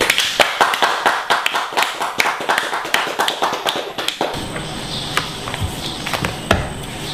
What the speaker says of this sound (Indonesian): Kawan-kawan semua bagi tepukan untuk Gudau.